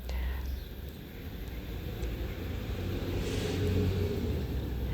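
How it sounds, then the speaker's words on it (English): Road traffic passing near a sunny garden in Turkey with an olive tree and roses, a continuous low rumble that swells slightly toward the end, with faint voices in the background. "There is some traffic as well, but let's try to ignore it"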